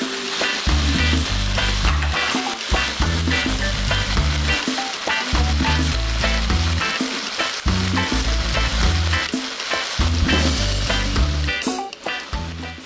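Vegetarian curry with chili peppers frying in a pan and being stirred, a steady loud sizzle with repeated scraping, stirring strokes running throughout.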